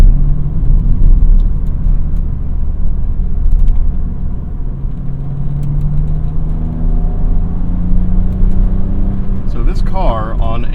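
A BMW M Coupe with the S52 straight-six pulls hard along a back road, its engine note rising through the revs as a deep, loud interior drone, with a brief voice near the end.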